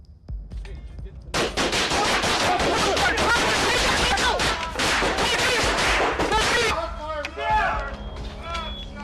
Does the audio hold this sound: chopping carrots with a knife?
no